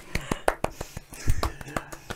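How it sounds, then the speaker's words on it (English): Players at a medieval tabletop role-playing session give a light golf clap with their hands close to the microphones: a dozen or so crisp, sharp claps in an uneven rhythm, with soft voices faintly underneath. "whenever there's a golf clap, everyone needs to join in"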